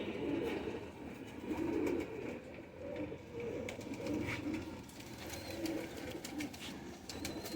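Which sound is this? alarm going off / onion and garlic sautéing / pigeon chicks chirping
pigeon chicks chirping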